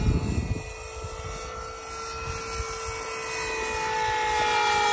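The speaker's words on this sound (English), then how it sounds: "that fan sounds awful" An electric ducted fan on an experimental blob-shaped model aircraft whines with a high, steady tone that rises and surges in loudness toward the end, with a rough rushing roar beneath and no talk.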